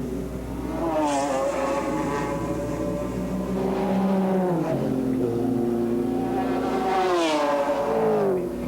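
Race cars from a 1996 Porsche race at Curitiba roar past continuously, engine notes rising and falling through gear changes, loud and steady with no talk.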